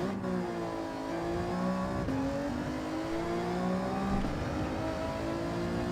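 Race car engine in a racing video game, revving hard with rising harmonic sweeps as it accelerates through the gears, a steady loud drone with brief shifts around two and four seconds and no talk over it.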